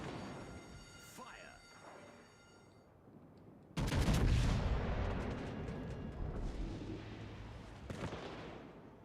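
Warship guns firing in World of Warships: Legends, a loud booming salvo that rolls into a sustained rumble, with a second burst later and a voice talking earlier in the stretch.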